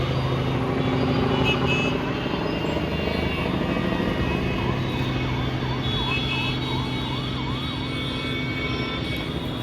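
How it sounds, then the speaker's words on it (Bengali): A helicopter passes overhead above the Mahakumbh fair grounds at Prayagraj, a steady distant drone that holds throughout, with a faint wavering siren in the background crowd noise. "ওই দেখুন হেলিকপ্টার যাচ্ছে উপর দিয়ে"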